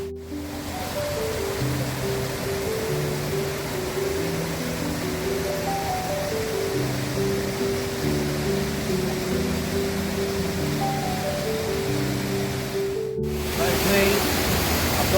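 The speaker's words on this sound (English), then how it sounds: "I'm staring at the waterfall" Steall Waterfall crashing steadily nearby, a loud constant roar of falling water with no breaks, no voices over it.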